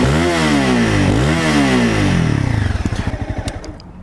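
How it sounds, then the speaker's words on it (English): A 2015 Honda CBR 300R motorcycle in neutral revved twice, the engine pitch rising and falling in two loud swells, then dropping back to a slowing, lumpy idle pulse, close up with no voices. "Let's rev it a little more."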